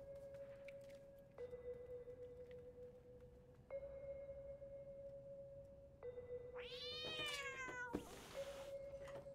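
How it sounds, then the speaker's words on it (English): In the video game Stray, a startled cat gives a sharp, rising meow followed by a harsh burst of noise, set against a steady electronic tone that shifts step by step through the clip. "I do love the startled cat."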